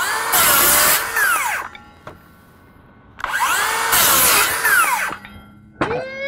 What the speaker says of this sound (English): We're ready to make our cut with the new FlexVolt 7 1/4